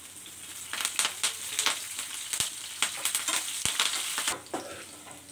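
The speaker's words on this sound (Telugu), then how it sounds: "ఇందులోనే కరివేపాకు వేస్తే ఆయిల్లో బాగా వేగుతాయి." Curry leaves and previously fried ingredients crackle and sizzle in hot oil for tomato chutney, sharp spattering pops bursting irregularly over a soft frying hiss, with a few stirring scrapes in the pan.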